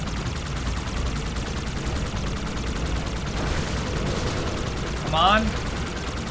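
Gunfire from a Halo 2 Anniversary firefight crackles steadily throughout, dense and mid-distance, with a brief louder burst near the end while a player talks over it.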